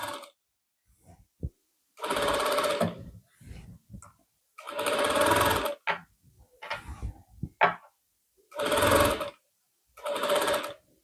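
An electric sewing machine stitches a decorative border onto cloth for a band-neck lining suit, running in five or six steady whirring bursts of about a second each, with short quiet gaps and faint handling noises between them.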